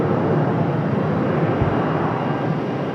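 An Alaska Airlines jet departs Raleigh Durham airport with a continuous, broad jet-engine roar, steady and fairly loud throughout, with no talking.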